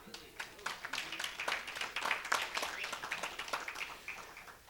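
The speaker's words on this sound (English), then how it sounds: "I know you're clapping" A seated audience claps steadily at a civic talk, a faint, dense patter of many hands sustained throughout without pause.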